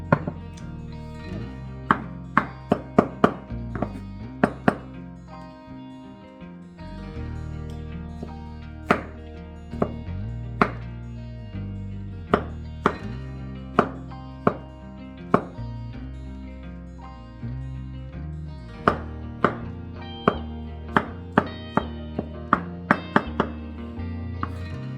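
A knife dices mushrooms on a cutting board, with sharp chops landing in irregular bursts over a low musical background, each strike distinct and close.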